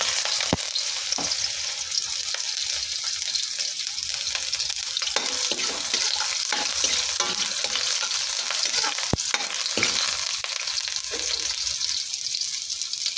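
Garlic and onion sizzle steadily in hot oil alongside fried fish, a dense continuous frying hiss with occasional stirring clicks, close and fairly loud throughout.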